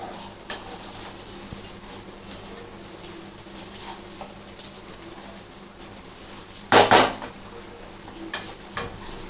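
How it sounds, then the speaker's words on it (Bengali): Rice frying in a pan for cumin jeera rice, a steady soft sizzle and stirring throughout, with a brief loud clatter near the end and faint bird coos in the background. "এবার চালটাকে ভালো করে ভাজবো।"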